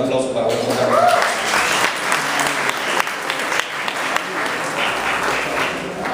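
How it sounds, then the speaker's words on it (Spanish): An audience applauds at a FIFA 15 presentation event in Mexico, a sustained crowd clapping that swells early and stays steady, with a voice speaking over it. "Un aplauso para Roberto."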